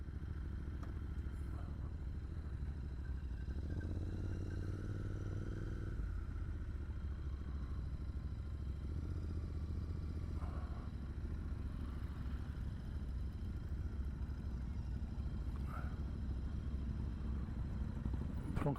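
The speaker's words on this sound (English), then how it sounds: "this is me now starting my bike" An Interceptor 650 motorcycle runs at a steady, loud idle for the whole stretch, with a brief rise in engine note early on and some mechanical clatter; outdoors at Barbiniere Woods, no talking.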